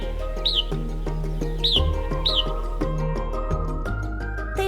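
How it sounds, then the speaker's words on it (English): Bird giving a low, rapid series of chirps as an alarm call in woodland, several short repeated notes standing out over a steady busy background. "When it perceives danger, it will make a low and rapid chirp, chirp, chirp, which is its alarm call."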